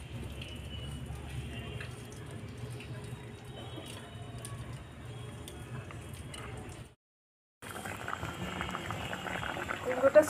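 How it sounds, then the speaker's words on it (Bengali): Pumpkin boiling in a pot of water for pumpkin-potato chop, a steady bubbling simmer that drops to silence for a moment near the end, then resumes. "কুমড়োটা সেদ্ধ হয়ে গেছে, এবার নামিয়ে দেবো।"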